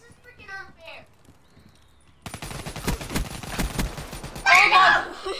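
Machine gun fire in the video game Call of Duty BO3, a rapid rattling burst of shots that starts abruptly after a moment of speech and continues amid game noise, with voices excitedly talking over it.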